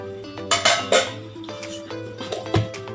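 Drumstick pieces go into a pot of mutton curry with a quick run of metallic clanks and clinks, close and loud at first, then lighter knocks against the pot.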